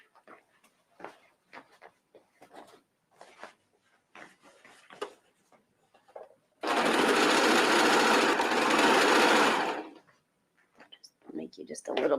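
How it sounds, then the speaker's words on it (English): A serger overlock sewing machine trims fabric in one loud continuous whirring run of about three seconds, preceded and followed by quiet talking and soft handling noises. "So let's go back to the serger."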